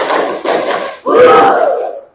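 A group of university students chanting together in an ice-breaking exercise, three loud energetic bursts of shouted unison voices close by with short breaks between them.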